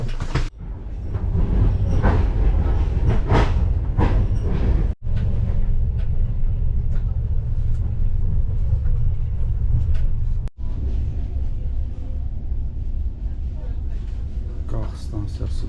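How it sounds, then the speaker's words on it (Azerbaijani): A passenger train bound for Zaqatala, near Balakən, rumbles steadily and loudly for the whole stretch with a low, continuous rolling drone, while people talk over it throughout. "Qatar Zaqatalaya gedir."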